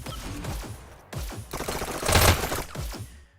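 Double SMGs fire rapid bursts in the VR shooter Hyper Dash during a zombie-mode match, several tight clusters of clattering shots close together, the loudest burst near the end.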